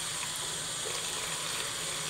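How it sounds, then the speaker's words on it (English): Warm water pours steadily into a seed-starting tray of peat pellets, a continuous soft splashing rush at moderate volume with no voices. "And we'll add a little warm water in there."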